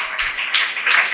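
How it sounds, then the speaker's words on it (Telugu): Hands clapping together from a church congregation during a sermon: a steady run of dense claps holds at an even level throughout, with no voices over it. "చప్పట్లు కొట్టండి."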